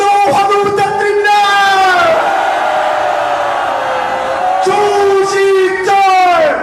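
A crowd at an outdoor patriotic rally in Korea roars and cheers for a missionary, sustained massed shouting voices swelling, dipping briefly, then rising again, loud and close.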